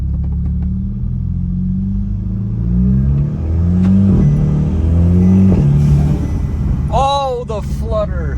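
Bagged Audi with a new intake driving under acceleration, engine note rising through gears with a quick turbo flutter burst near the end; a voice talks over part of it.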